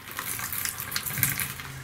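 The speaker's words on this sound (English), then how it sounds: "Guys, we've got running water." Tap water runs steadily in an abandoned care home, a soft continuous splashing hiss at moderate level with no talk over it.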